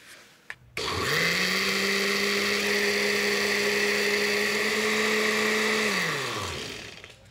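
A countertop blender buzzes steadily for about five seconds, whirring a coconut milk and unseasoned rice vinegar marinade for pork, then winds down. It is loud and close, with no talk over it.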